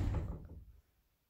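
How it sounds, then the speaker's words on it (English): A door in an indoor room gives a single dull knock or thump, loudest at the start and fading out within a second into near silence. "the door, always with the door"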